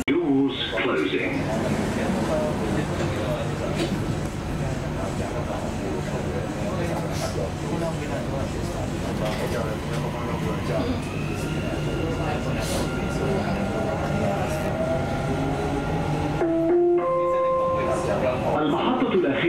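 A Dubai Metro train runs with a steady rumble of wheels and a motor whine whose pitch rises and falls, while announcements play over the train noise.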